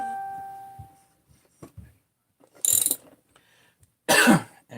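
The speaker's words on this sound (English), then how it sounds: "with a ratcheting wrench, guide this right on home" A ratcheting wrench clicks in short bursts as a connecting rod is drawn into a Husqvarna 394/395 chainsaw crankcase, two loud ratcheting runs separated by quiet gaps, with a faint tone and small knocks earlier.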